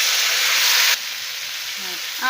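Boiled raw banana drops into a hot frying pan with curry leaves, and a loud sizzle cuts abruptly to a quieter hiss after about a second. A voice starts briefly at the very end.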